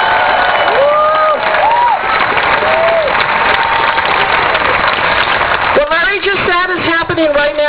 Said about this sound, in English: Give another round of applause for Larry Curtis and the men and women of the Long Beach Municipal Band.